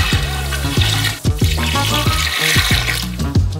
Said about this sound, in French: Ajoutez également 1 litre d'eau chacun.